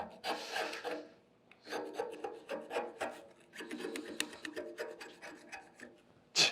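Scraper rasping weld spatter off a metal plate treated with Black Magic anti-spatter spray, a run of repeated close scrapes with short pauses between strokes, ending in one louder stroke.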